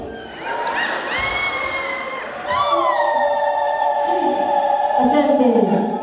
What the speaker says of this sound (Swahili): Makofi na vigelegele vingi kabisa.